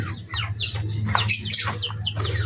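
Caged pet birds, pigeons and chickens among them, chirp and call in quick overlapping bursts close by over a low steady hum, with the odd clucking note.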